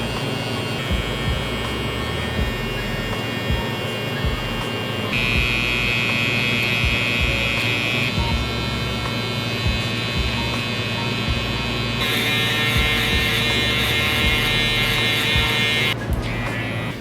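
Electric hair clippers buzz steadily and close up while detailing a drop fade haircut, a continuous loud hum whose pitch shifts slightly as the blade lever changes, with faint talk in the background.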